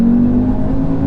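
A 2017 Audi TTS engine pulling hard under acceleration, a steady loud drone heard from inside the car, continuous and unbroken for the whole stretch with no talking.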